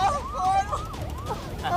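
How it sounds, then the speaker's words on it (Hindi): A wailing ambulance siren sweeps up and down repeatedly, somewhat distant and moderately loud, over a low background rumble. "एम्बुलेंस आ गई।"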